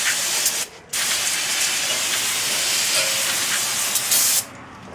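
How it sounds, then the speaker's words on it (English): Aerosol parts cleaner sprayed onto the rear brakes of a 2014 Ford Escape, a loud steady hiss in two long bursts with a brief pause between them, ending abruptly. "I'm going to take some parts cleaner and just give this stuff a good soaking."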